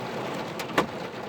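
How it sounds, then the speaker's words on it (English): Hail coming down during a big summer hailstorm, a dense steady patter of many small hits with one sharper crack standing out near the middle, continuous and fairly close, no voices. "there's hail coming down."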